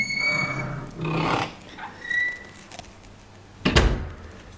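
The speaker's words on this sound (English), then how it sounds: "The door." An apartment door opening or closing, with a few soft creaks and scrapes followed by a single solid thunk near the end, fairly quiet and close with no talking.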